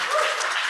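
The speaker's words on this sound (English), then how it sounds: "So let's all give a big round of applause for Mike Callahan." A brief burst of audience applause for a presenter at a talk on beaver management plans, dense and steady for under a second with no voices over it.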